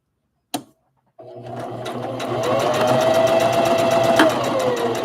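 Sewing machine running a steady continuous stitch on a rag doll body, loud and close, starting after a brief click and a short pause, with a sustained motor whine throughout.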